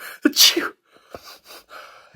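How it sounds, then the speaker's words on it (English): Someone with hay fever sneezes once loudly after a sharp intake of breath, followed by a few softer sniffs and breaths close by. "I really suffer from hay fever and I can't stop sneezing"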